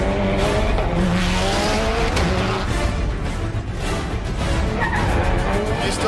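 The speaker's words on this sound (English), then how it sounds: "demonstrating how to keep the car perfectly balanced at all times" Subaru Impreza rally car driven hard with tires skidding, engine roaring loud and continuous throughout alongside squealing tire noise, no talk.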